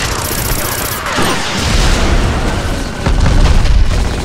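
Dense enemy gunfire and explosions from the Black shooter video game, with sustained rapid automatic fire and deep booming blasts rolling together, loud and close, swelling near the end with no talk.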